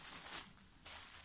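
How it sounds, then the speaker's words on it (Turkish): A plastic freezer bag crinkling as it is handled, soft rustling bursts with a short pause in between, faint and close. "Mesela bu buzdolabı poşeti."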